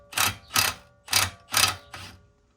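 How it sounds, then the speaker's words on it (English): A 21 mm box wrench works a nut on a Mercedes CLS 63 AMG during a lowering spring installation, giving five evenly spaced, close, loud metallic ratcheting bursts with short pauses between. "there's a nut that you have to hold down with a box wrench"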